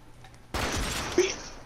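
Burst of gunfire from enemies in a Fortnite match, a loud sudden onset of dense cracking shots that continues steadily with one sharper spike, close and dominant.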